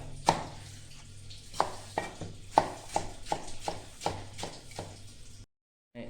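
A knife chops tomatoes into thick pieces on a board: about ten sharp, evenly spaced thuds close up, ending in a short silence.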